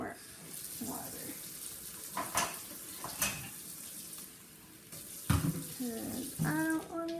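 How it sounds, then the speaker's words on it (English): Water is poured into a cooking pan while bourbon chicken is prepared, a steady splashing and hiss with brief bursts, followed by people talking in the kitchen. "I'm going to add more water."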